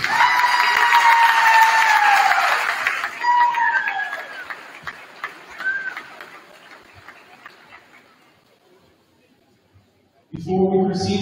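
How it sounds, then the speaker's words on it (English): Crowd applause at a boys' varsity senior night honoring parents and family members, loud clapping and cheering with a few shrill whistles that fades away to near silence, then a burst of voices or sound returns at the end. "Let's have a big round of applause for all the parents and family members"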